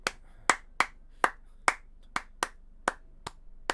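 Solo hands clap a samba rhythmic pattern for percussion practice, about ten crisp, close claps in an uneven, syncopated groove in an otherwise quiet room.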